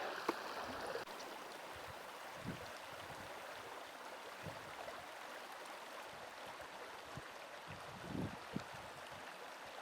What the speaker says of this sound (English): super place to just sit and listen to the creek